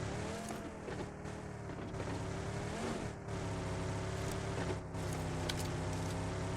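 A vehicle engine drives in the PUBG Mobile game, a loud steady motor whine with shifting harmonics and a couple of brief dips as it revs and changes pitch, with no voices over it.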